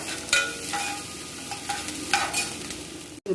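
Mushrooms and about ten dried red chillies sautéing in a pan, a steady close sizzle with a few scraping stirs of a spatula across the metal, briefly cutting out near the end.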